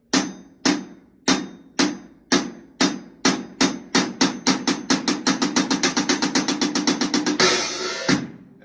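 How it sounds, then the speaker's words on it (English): Single drum strokes played with Moeller technique, starting widely spaced and steadily speeding into a dense roll of sharp, loud hits before a final wash of cymbal and one closing stroke; no talking. "we cut down that air time and then we expand the space in between the notes"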